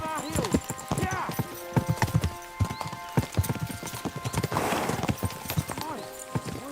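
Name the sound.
horses galloping, video game Kingdom Come: Deliverance 2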